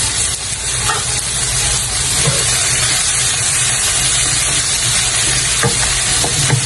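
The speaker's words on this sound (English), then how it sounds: "Let's just cook it for another 3 to 4 minutes until the vegetable is halfway done." Thyme, oregano, basil and vegetables fry in a pan for chicken cacciatore, giving a steady close sizzle with soft stirring scrapes and occasional pops throughout.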